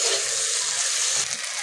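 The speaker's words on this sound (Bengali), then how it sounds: "সামান্য একটু জল দিয়ে দিচ্ছি।" A little water is poured into spices frying in a pan for a cabbage-filled steamed pitha. It makes a steady close hiss and rush that eases slightly near the end.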